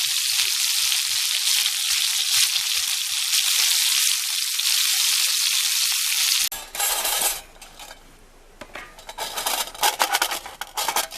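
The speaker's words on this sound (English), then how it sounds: "I'm just pan frying some duck breast." Duck breast pan-frying in an iron skillet on a folding camping BBQ, a loud steady sizzle that cuts off abruptly and gives way to lighter rattling, stirring and utensil clinks.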